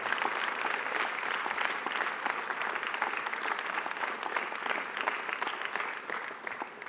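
An audience at a Morehouse College NSLS inaugural induction ceremony claps steadily, a dense, sustained burst of applause from many hands that holds at an even level throughout before tapering slightly at the end.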